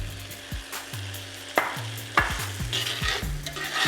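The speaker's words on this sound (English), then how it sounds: "So I'm adding the shrimp in." Shrimp hit a hot pan for fried rice and sizzle continuously, with repeated spatula scrapes and clanks against the pan building in a steady stirring rhythm, close and clear.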